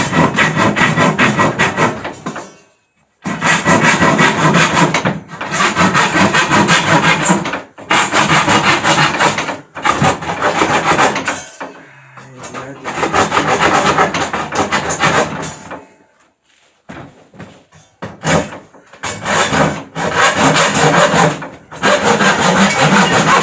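A hand saw cuts through wood in long rhythmic bursts of back-and-forth strokes, close and loud, pausing briefly between runs of sawing.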